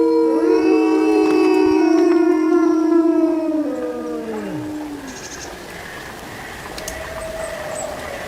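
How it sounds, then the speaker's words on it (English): Arctic wolf howling in a long, loud, clear wail that holds steady and then slides downward, with fainter overlapping howls tapering off afterward. "I give you the howl of the Arctic wolf."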